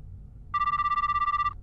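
A phone rings in a video game while a call is placed to Moka. After a moment of quiet, one steady electronic ring tone pulses quickly and evenly for about a second, sounding clear and up front.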